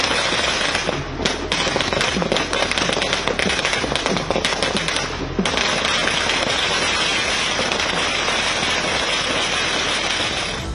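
Dense, continuous crackling of firecrackers bursting in rapid succession for the whole stretch, loud and nearby, with no talking.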